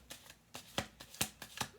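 Tarot cards riffled by hand in a quiet room, five or six quick, crisp shuffling bursts in an even rhythm, soft and close.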